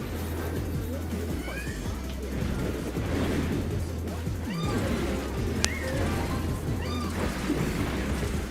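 A cat meows a few times in short, rising calls amid a busy background with a steady low hum and occasional voices.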